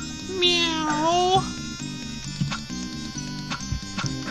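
A cartoonish cat meow in the video game Monster Bash rises and falls over bouncy game music, followed by steady background music with small sound effects.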